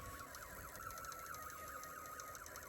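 A Snap Circuits SC-750 alarm integrated circuit sounds a steady warbling electronic siren tone that rises and falls repeatedly, thin and continuous, with no voices.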